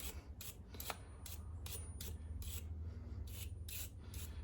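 Close-up scratchy brushing strokes cleaning carbon off a spark plug from a 1932 Ford Model B, a quick irregular series of short bristly rasps over a steady low hum.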